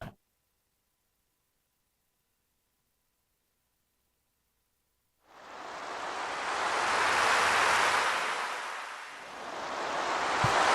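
Ocean waves crash onto a shore in a video game, a loud, broad surf roar that bursts in after several seconds of silence, swells, briefly dips, then surges again.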